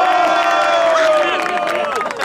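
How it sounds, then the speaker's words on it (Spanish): A crowd at a Spanish freestyle rap battle final cheers and applauds loudly in a brief burst, whoops and voices mixed with clapping up close. "¡Un aplauso!"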